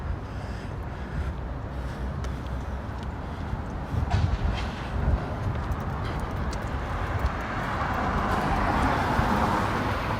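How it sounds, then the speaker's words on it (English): A passing freight train gives a steady, loud rolling rumble with clattering wheel noise that swells toward the end, heard from a city street. No distinct horn blast stands out. "That sounds like actual, like a freight train or something with its horns."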